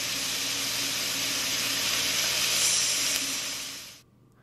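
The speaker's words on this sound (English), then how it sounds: "set them on the frying pan and fry them at about medium heat until they become nice and crispy" Steady loud sizzling of bacon frying in a pan at medium heat, a dense crackling hiss that fades out abruptly near the end.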